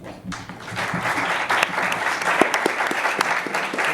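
Lecture audience in a library breaking into sustained applause, a dense, steady patter of many hands clapping at moderate distance with a few sharper nearby claps, and faint voices mixed in.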